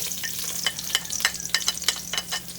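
Minced garlic and chopped onion sizzle and crackle in a hot pan in a home kitchen, with steady frying hiss and irregular sharp pops and stirring scrapes, close up and with no voices.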